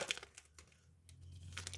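Football trading card packs are torn open by hand, giving faint crinkling and tearing of foil wrappers in short bursts, quiet and close with no talking.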